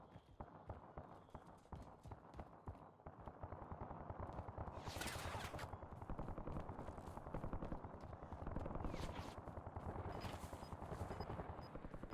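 Distant gunfight in a Call of Duty Warzone match, rapid rhythmic bursts of automatic fire crackling faintly over a steady background, with a few sharper louder volleys breaking through.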